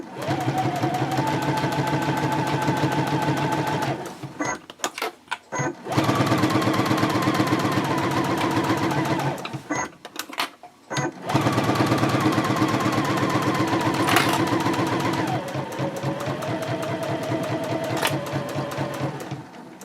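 Sewing machine stitching a clear view project pouch along a drawn line, a loud, fast, steady mechanical whir that runs in long stretches with a few short pauses.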